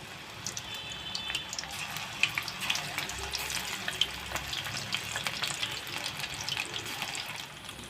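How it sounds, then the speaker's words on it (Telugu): Mushrooms for mushroom 65 sizzle in hot oil with a steady, bubbling, crackling fry, quiet overall with scattered sharp pops and no voices. "ఆయిల్ కాగిపోయిందండి. మష్రూమ్ ఇప్పుడు వేసుకుందాము."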